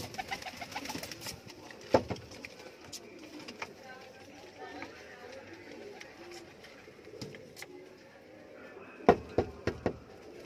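Soft cooing of Teddy pigeons murmurs through the scene, broken by a few sharp knocks and flutters, with faint voices in the background.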